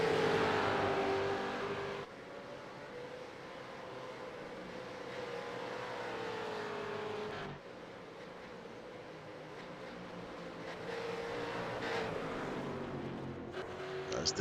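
Supercars racing around the Phillip Island circuit in the iRacing game, engines droning and shifting pitch as cars pass, fairly faint with abrupt cuts between camera views and a voice speaking faintly at times.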